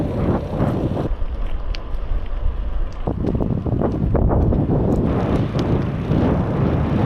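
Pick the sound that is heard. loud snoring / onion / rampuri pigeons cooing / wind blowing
wind blowing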